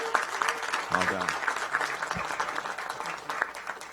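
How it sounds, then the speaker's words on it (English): Council session audience applauding a medal winner, steady clapping from a room full of people, moderately loud, with a voice speaking briefly over it. "Give her a round of applause, folks."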